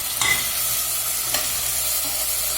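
Steady, busy sizzle of tomatoes and green chillies frying in a hot pan, with a couple of brief stirring clatters; no talking.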